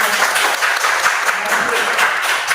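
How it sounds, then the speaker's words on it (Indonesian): Classroom audience applauding a student group after their presentation, steady dense clapping close by that fills the whole moment. "berikan aplaus untuk kelompok."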